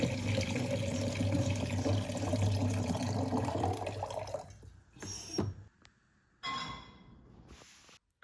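Water splashes and runs in a sink as bleach is poured down the drain, a loud churning gush for several seconds that breaks off into short spills and trickles separated by near silence.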